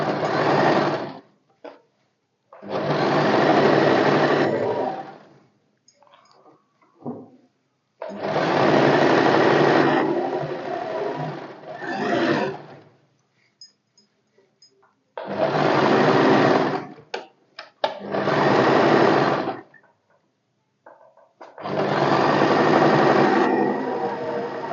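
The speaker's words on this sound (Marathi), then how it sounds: "इथून थोडंसं पुढे घेते आणि कडेने एकदम शिवून घेणार" A sewing machine stitches along the edge of a salwar bottom in loud, close bursts of a few seconds each, separated by short pauses with faint handling sounds.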